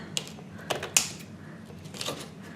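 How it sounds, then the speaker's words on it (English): Scissors snip and crunch at stiff plastic toy packaging in a few short, sharp bursts, close by, with quiet pauses between cuts. "Let's just use some scissors."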